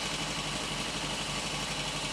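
Royal Enfield Constellation motorcycle engine idling steadily on full advance, a continuous close mechanical drone with even low throb and no revving or talking.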